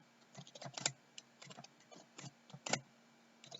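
Python code being typed on a computer keyboard, a quiet run of irregular key clicks bunched in quick bursts with short pauses between them.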